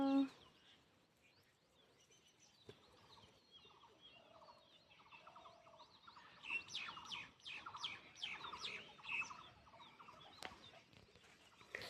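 Small birds chirp in a rapid series of bright, scattered calls in a village garden near banana and peepal trees, faint and a little distant over soft background noise and murmuring.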